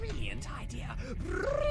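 A low, rumbling cat growl from the Deus Ex game mod The Nameless Mod, sustained for a moment and mixed with a steady background hum.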